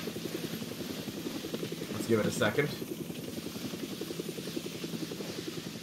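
A helicopter in a Resident Evil 7 cutscene gives off a steady, rapid rotor chop at moderate volume all the way through, and someone speaks briefly over it partway in.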